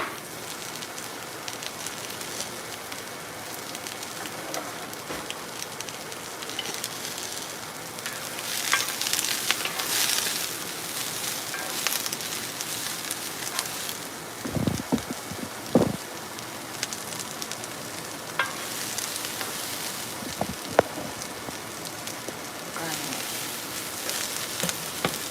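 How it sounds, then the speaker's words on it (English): Onions sautéing in a pan for fried steak and brown gravy, a steady loud sizzle and crackle of frying with occasional clinks and scrapes of stirring, close up and without talk. "we're just getting our onions sauteed"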